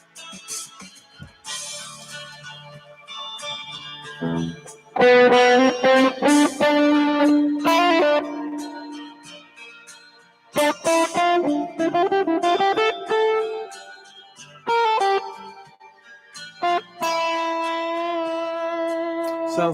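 A distorted electric guitar rings out in sustained chords and bent notes, separated by brief pauses and sharp attacks, played alone without talking.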